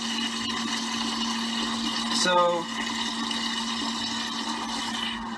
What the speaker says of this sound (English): now it's pumping that vinegar up into the heat exchanger